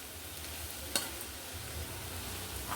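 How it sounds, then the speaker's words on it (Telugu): Ponnaganti leaves and amaranth greens stir-fried in a pan on low flame, a faint steady sizzle with soft scraping of the spatula and one sharper scrape partway through, no voices. "లో ఫ్లేమ్లో పెట్టుకొని ఇలా బాగా ఫ్రై చేసుకో."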